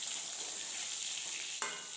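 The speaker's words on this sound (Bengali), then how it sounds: "এবার আলুগুলো হালকা লালচে করে ভাজা করে নেব।" Potatoes frying in oil toward a light reddish colour for a kain fish curry, a steady bright sizzle heard up close and fairly soft, with one brief spatula knock near the end and no talking.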